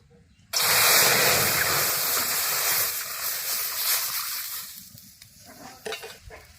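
Milk poured into a hot kadai for carrot rasmalai sets off a loud, steady sizzle and hiss that starts abruptly and slowly fades over several seconds, with light stirring clinks near the end.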